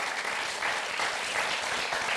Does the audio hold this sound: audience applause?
yes